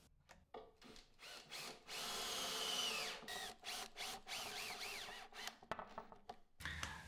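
A power drill drives screws into the underside of a wooden router box joint jig sled, whining in several close bursts of varying length separated by short quiet gaps and handling clicks.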